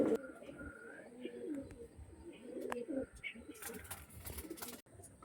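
Pigeons coo softly in a small group, low throaty calls mixed with brief chirps, faint and close, with a person talking quietly in the background.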